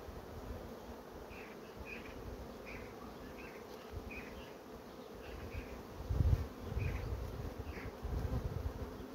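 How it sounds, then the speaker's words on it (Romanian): A dense, steady buzz of many honey bees hums continuously inside a hive in a colony showing swarming behaviour, with occasional soft bumps and rustles near the microphone. "E multă albină încă în stup"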